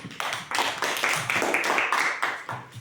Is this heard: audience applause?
yes